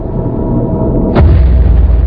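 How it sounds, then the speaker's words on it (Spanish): A deep, heavy boom hits once after a low rumble, leaving a sustained low-frequency roar behind it. "un dispositivo capaz de generar enormes explosiones sónicas de baja frecuencia"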